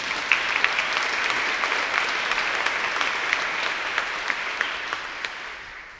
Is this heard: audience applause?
yes